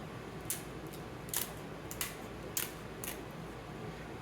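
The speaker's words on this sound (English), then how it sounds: "Next, we have to split the tail with scissors like this." Kitchen scissors snip through a lobster tail shell, giving five or six short, sharp crunching clicks spaced irregularly over a quiet background.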